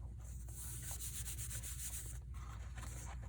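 Steady, soft rubbing as paper is burnished down by hand along a book spine while rebuilding an ephemera holder, a close, continuous scraping friction with no talk.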